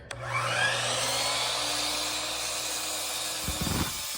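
Handsaw or power saw cutting through two wooden shelf boards clamped together, a steady loud rasping cut running for several seconds, ending with a few brief knocks as the pieces separate.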